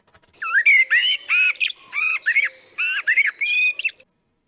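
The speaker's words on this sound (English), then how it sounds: "a second bird and a third one." A bird sounds a close run of bright chirps and squawking whistles in quick repeated bursts, clear against near silence, used as a layer in an ambience soundscape.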